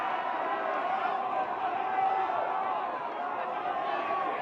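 Steady crowd roar from the stands at a college lacrosse game between Colorado and Colorado State, a continuous even wash of many voices with no breaks, fairly loud throughout.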